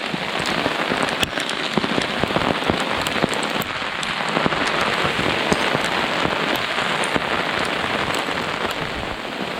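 Heavy hail and rain pelting a stretched tarp shelter during a sudden flash storm, a dense continuous loud drumming with sharp individual impacts cracking through, steady throughout with no voices.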